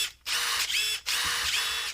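A cordless impact wrench, either a DeWalt or a Makita, runs in two loud, sustained bursts of high-pitched whirring and hammering, with a short pause in between.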